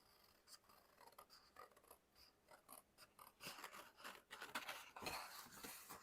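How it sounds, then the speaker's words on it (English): Scissors snip through paper stencil sheets for journal pages, a run of soft crisp cuts that starts faint and grows louder and denser toward the end, with no voices. "So let's just cut these out"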